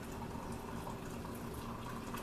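Water poured into a container while preparing homebrew wine, a soft continuous splashing and trickling fill heard close and fairly quiet, with no voices.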